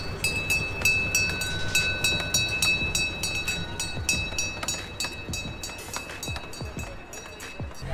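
A small heritage train in North Bay, Ontario rumbles along with rhythmic clicking over the rails, steady and close, fading slightly toward the end; voices murmur faintly underneath.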